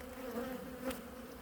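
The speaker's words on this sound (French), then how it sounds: "ce sont des abeilles noires hybrides, un essaim naturel fait en avril 2023" Hybrid black honeybees from a natural swarm buzz around their overwintering hive, a soft steady hum with a couple of brief closer passes.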